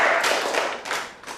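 Scattered clapping from a classroom audience fades off, a few close, loud hand claps tapering into quieter, uneven taps.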